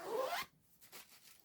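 A fabric zip on a sewing project is pulled in one quick, close rasping zip, followed by faint, soft handling rustles, with no talking.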